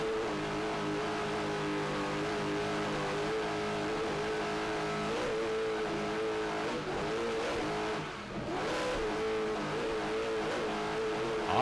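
Race engines at the 2009 Key West world races: a loud, steady, continuous engine roar that briefly dips and surges as the throttles come off and back on.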